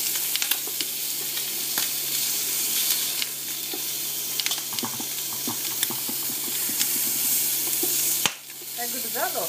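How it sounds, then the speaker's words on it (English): Bream fillets and bacon sizzle loudly in a hot pan, a dense continuous crackle with scattered pops and a few light utensil knocks as the pieces are turned, ending in a brief clatter. "We're going to turn our bacon and fish over"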